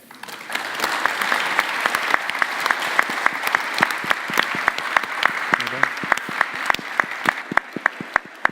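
An audience applauds panellists at the close of a panel discussion with an archbishop. Dense, sustained clapping runs throughout, with sharp individual claps standing out from the steady mass of hands.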